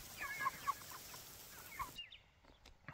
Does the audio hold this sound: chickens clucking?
yes